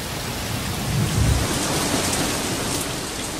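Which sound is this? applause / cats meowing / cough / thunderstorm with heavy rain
thunderstorm with heavy rain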